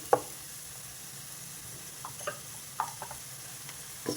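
Chili powder masala frying in oil over a medium flame for a garlic chicken curry, with soft sizzling and several brief stirring scrapes spaced irregularly, fairly quiet and close.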